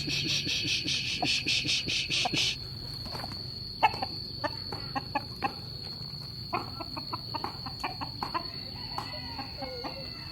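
Chickens cluck in short, scattered bursts close by, alongside loud insect and cricket chirping that fills the first few seconds before continuing as a thin steady whine.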